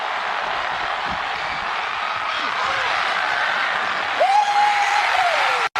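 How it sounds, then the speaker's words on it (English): Crowd noise and applause from an arena audience at a boxing-style ring entrance, a steady dense roar throughout, swelling briefly near the end with a rising tonal whoop or whistle over the top. "The crowd is losing it!"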